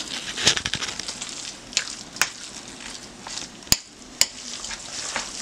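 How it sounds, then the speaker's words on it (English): Rice is stirred into a stuffed-pepper filling in a pan, giving a scraping, shuffling churn with several sharp clacks of the utensil against the pan, moderately close and heard alone. "I'm going to go ahead and mix it all together very well."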